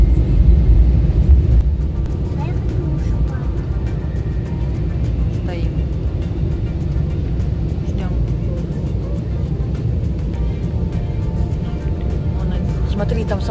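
Aircraft taxiing along a runway, heard from inside as a steady low rumble and engine drone that holds level throughout, with faint cabin sounds over it.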